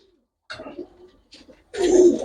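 Pigeons coo in short, soft bursts nearby, a few separate low murmuring calls followed by a louder, fuller coo at the end, with no talking.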